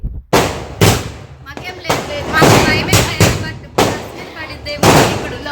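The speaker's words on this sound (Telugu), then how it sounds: "ఇంకా బాంబులు పేలుస్తూనే ఉన్నారు పెద్ద పెద్ద సౌండ్స్కి అసలు చెవులన్నీ బ్లాక్ అయిపోతున్నాయి" Diwali firecrackers bursting outdoors: a rapid, irregular series of loud, sharp bangs close by, each ringing out briefly before the next.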